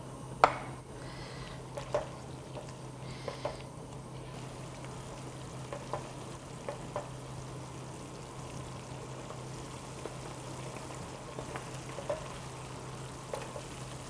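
Steady low sizzling and bubbling of sauce seasoned with sugar and soy sauce in a pan on the stove, with a few soft clinks of utensils scattered throughout.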